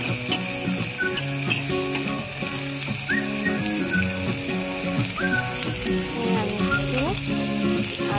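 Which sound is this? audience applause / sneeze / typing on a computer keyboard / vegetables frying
vegetables frying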